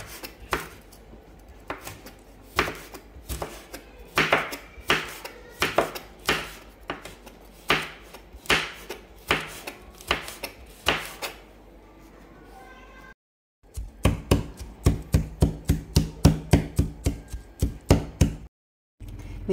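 Repeated sharp pounding thuds, irregular at first then faster, like garlic being crushed in a plastic bag on a board, with brief pauses between bursts.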